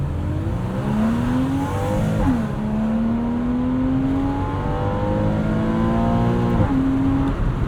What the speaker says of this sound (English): go flat out in this car and it makes a whole lot of good sounds